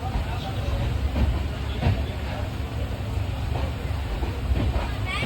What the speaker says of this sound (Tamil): இப்போ நம்ம திருநெல்வேலி ட்ரெயின் கிளம்பியிருக்கு